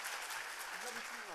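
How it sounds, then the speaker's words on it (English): An audience at an award event applauds, a dense, even wash of clapping that stays steady throughout, while a voice speaks underneath. "Can I have a round of applause for my spectacular helper?"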